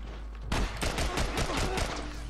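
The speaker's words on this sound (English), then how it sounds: "Yeah, I think I'm gonna use an assault rifle." Assault rifle fire in The Last of Us, a loud sustained burst of rapid automatic shots lasting about two seconds, close and dense with no talking.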